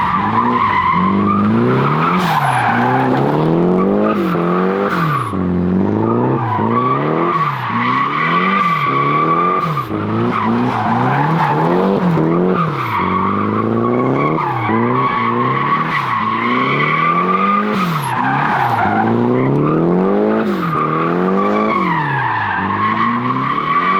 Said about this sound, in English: It drifts so easy.